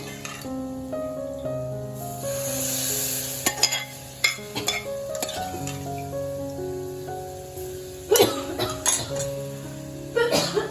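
Boiled matki (moth beans) sizzle and crackle in a pan of spiced masala for misal while a spoon stirs and scrapes, steady frying close up, with background music and a couple of sharp scraping bursts.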